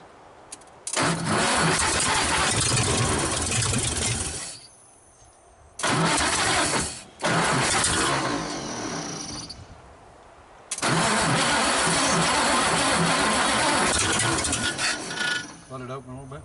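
A 1948 Nash engine cranks and catches in repeated bursts, roaring loudly for several seconds at a time between short pauses, then settling into a sustained run near the end, with people talking faintly in between.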